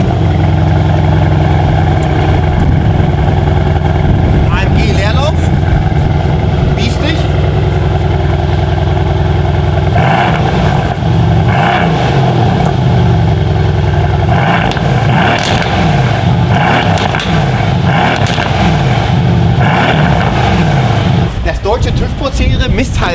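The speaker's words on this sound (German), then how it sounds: "4 Liter V8 Biturbo, sieht so aus." A Mercedes-AMG 4-liter V8 biturbo engine runs loud and close, idling and revving in repeated bursts while people talk over it.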